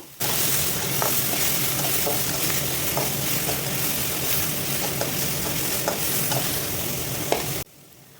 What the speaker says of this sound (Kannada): ಸೊ ಇದನ್ನ ಹಾಕ್ಕೊಂಡು ಚೆನ್ನಾಗಿ ಎಲ್ಲನೂ ನೀಟಾಗಿ ಫ್ರೈ ಮಾಡ್ಕೋಬೇಕು